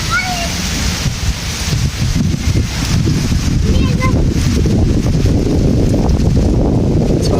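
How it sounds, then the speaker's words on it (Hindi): Strong wind buffets the microphone in a park during rain, roaring loudly and continuously with gusty surges, while faint voices and other background sounds come through beneath it. "तेज हवा भी चल रही है।"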